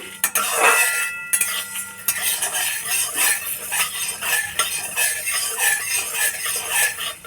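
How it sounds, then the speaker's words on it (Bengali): Coriander seeds roasting in a pan with chillies for a sour-sweet jujube pickle, with a metal spatula scraping and clinking steadily against the pan over a soft sizzle. "এবারে ধনেটা দিয়ে দিলাম ধনেটা একটু ভাজা হলে পরে"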